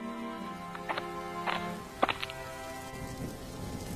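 Heavy cartoon rain makes a steady soft patter in the background while several brief tonal, sung or voiced bursts rise over it, fairly faint overall.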